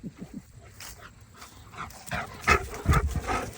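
Happy farm dogs on a walk, panting and whimpering close by in short bursts, with a few louder rustling bumps near the end; no talking.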